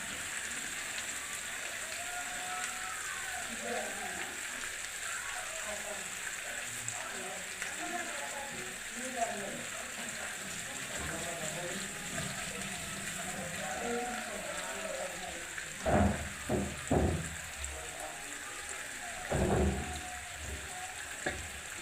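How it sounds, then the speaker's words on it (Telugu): Fish shallow-frying in a pan with only a few drops of oil, a steady soft sizzle and crackle throughout, with a few louder clanks and scrapes from stirring near the end. "మధ్య మధ్యలో ఒక్కొక్క డ్రాప్ ఇలా ఆయిల్ వేసుకుంటూ ఉండాలండి. అప్పుడు అడగంటకుండా వేగుతూ ఉంటుంది."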